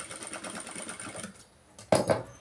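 A sewing machine stitches a designer blouse in a quick, rapid run of close mechanical clatter, then stops, followed by a few short, sharp handling knocks.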